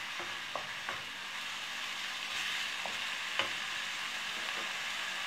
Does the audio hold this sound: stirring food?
yes